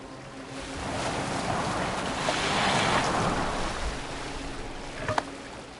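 A boat in Assassin's Creed Valhalla glides over open water, a broad steady wash of waves and wind that swells and then eases, with a faint knock near the end.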